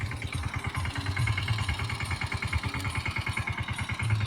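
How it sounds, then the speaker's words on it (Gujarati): A mini tractor engine chugs at a steady idle out in a farm field, a fast, even, low throbbing pulse that stays close and unbroken throughout, with no one talking. "તમે જોઈ શકો બહુ જ શાનદાર કામ કરી રહી છે ટ્રેક્ટર"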